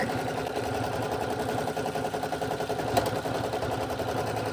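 An embroidery machine stitches gold thread into a denim jacket, a fast, steady mechanical rattle of needle strokes that runs evenly and loudly close by, with no talking.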